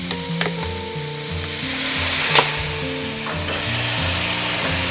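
Slow-cooking vegetables such as baby corn and broccoli sizzle loudly in a wok for a glass noodle stir-fry, with repeated spatula scrapes and clacks over soft background music.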